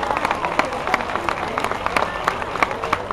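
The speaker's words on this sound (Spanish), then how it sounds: "Aplauso de reconocimiento para usted." A crowd applauding with steady, dense clapping throughout, fairly loud and continuous.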